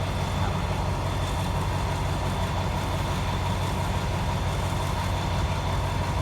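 A Thai ordinary passenger train, No. 251, idles steadily at platform 2 of Ban Pong station, its deep engine drone constant and loud throughout, with a faint high whine above it.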